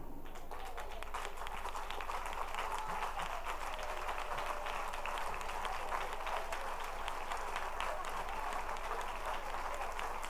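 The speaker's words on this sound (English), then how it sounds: "I want you to clap according to the amount of years you want to see him live." An audience at a birthday celebration for a prophet claps and applauds steadily, a dense continuous patter of many hands filling the room without pause.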